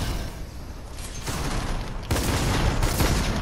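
Gunfire in the Fortnite video game on a creative free-for-all map: a dense fusillade of rapid shots, fairly loud and continuous, growing heavier partway through with no talk over it.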